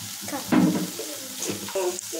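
Mashed potato curry with coriander powder, garam masala, chilli, turmeric and salt is stirred in a hot pan, a spoon scraping over a soft sizzle in a few short strokes.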